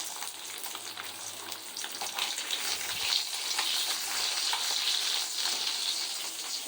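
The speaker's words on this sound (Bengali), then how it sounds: "এখানে মাছ ভাজা হচ্ছে" Fish frying in a pan in a home kitchen, a steady, close sizzling hiss that grows a little louder partway through and continues without a break or any talking.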